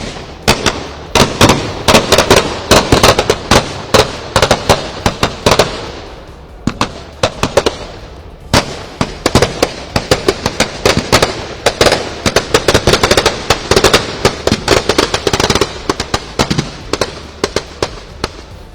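Dense, loud volleys of firecrackers crackle and bang in rapid, irregular bursts as a Ravan Dahan effigy burns at a Dussehra celebration, with a brief lull midway before the barrage resumes.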